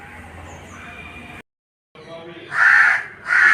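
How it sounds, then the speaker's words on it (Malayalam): Two loud, harsh crow caws close by, following a low background hum and a brief silence. "കാക്ക വീണ്ടും അവിടെ വന്നിട്ടുണ്ട് കേട്ടോ"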